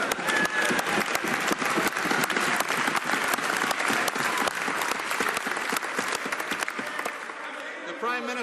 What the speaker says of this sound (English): And they applaud.